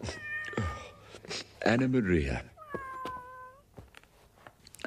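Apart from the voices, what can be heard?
kitten meowing in an animated cartoon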